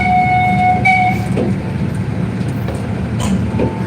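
A zoo railroad train that has broken down sits in its rail yard, giving a continuous rumbling drone with faint tonal whistle-like hums and a couple of brief knocks, loud and close throughout.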